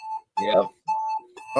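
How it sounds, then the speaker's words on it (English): A phone alarm goes off in a room, a repeating electronic tone cycling in short bursts at moderate volume, with people talking briefly over it. "There goes my alarm."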